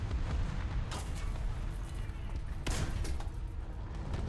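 Tank battle in War Thunder: heavy rumbling engine and combat noise with two sharp cannon-shot impacts against the player's tank, loud and close, with no talk.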